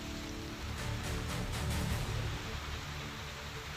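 Heavy rain falling during floods in Bihar, a steady dense roar of water with a low rumble, continuous and fairly loud, with no voices.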